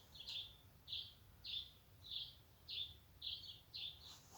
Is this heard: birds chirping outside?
yes